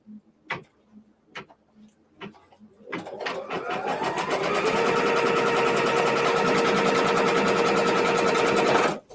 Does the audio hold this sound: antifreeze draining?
no